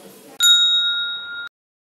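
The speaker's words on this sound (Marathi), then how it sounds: "ही घंटी वाजवा" A single bright bell ding rings out clearly and sustains for about a second before cutting off, used as a subscribe-button sound effect, following faint background noise.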